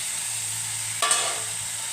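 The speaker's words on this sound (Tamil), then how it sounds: "காலிஃப்ளவர் எல்லாத்தையும் நல்லா மிக்ஸ் பண்ணி வேக வச்சுக்கணும்." Cauliflower being mixed and cooked in a pan with a little salt, with a steady soft sizzle throughout and a brief louder stirring scrape about midway.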